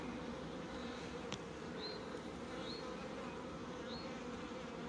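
Honeybees buzz as a newly installed package settles into a hive and clusters around the queen. The buzz is a faint, continuous, even hum, with a few brief higher tones rising above it.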